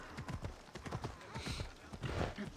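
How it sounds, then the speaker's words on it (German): Hooves of a horse galloping in the video game Assassin's Creed Odyssey, a quick, even clip-clop rhythm of soft thuds, fairly faint and steady from start to finish. "Ich lass mal das Pferd ein bisschen reiten."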